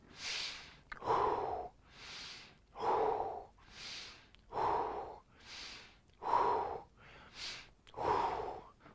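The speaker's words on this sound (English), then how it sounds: "Keep your breathing going" Rapid deep breathing during a superventilation breathing exercise: a steady series of about eight forceful inhale-exhale cycles, close and alone without talk.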